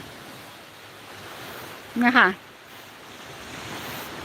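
Sea waves wash onto the beach at Khanom, Nakhon Si Thammarat, a soft, continuous surf hiss with some wind, briefly interrupted by someone speaking a few words midway.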